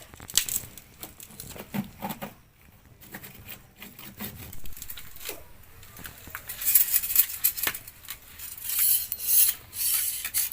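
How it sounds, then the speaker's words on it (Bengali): Boiled potatoes being mashed by hand for vegetable chop, a close, uneven run of squishing, rubbing and scraping sounds that grows louder and busier toward the end. "তো আলুগুলো এবার আমি ভালো করে মাখিয়ে নেব।"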